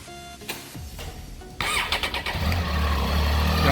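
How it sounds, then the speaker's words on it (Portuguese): A 2018 Triumph Tiger 800 XCA motorcycle cranks briefly with the clutch pulled in, then catches and settles into a loud, steady idle close by. "e a moto vai ligar."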